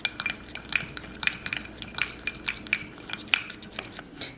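A spoon stirs briskly in a bowl of yeast and warm milk for a face mask, making rapid, rhythmic metallic clinks and scrapes that repeat steadily and stay close and clear, with no talking.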